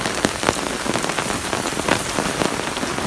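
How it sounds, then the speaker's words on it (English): Heavy, persistent rain pours steadily onto surfaces at a winter camp, a dense, loud and continuous patter with occasional sharper drips and splats standing out close by. "this rain, it's proper persisting it down."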